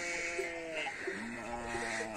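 Sheep bleat repeatedly and fairly close during milking on a farm, a steady chorus of overlapping calls with continuous livestock noise throughout.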